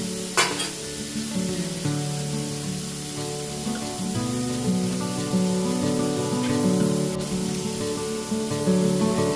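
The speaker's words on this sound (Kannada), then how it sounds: "ಚೆನ್ನಾಗಿ ಸ್ವಲ್ಪ ಫ್ರೈ ಆಗಬೇಕು, ಸ್ವಲ್ಪ ಕಲರ್ ಚೇಂಜ್ ಆಗಬೇಕಿದೆಲ್ಲ ತರಕಾರಿ" Vegetables frying in a pan for Maggi noodles give a steady, loud sizzle with occasional stirring scrapes, running continuously with no talk.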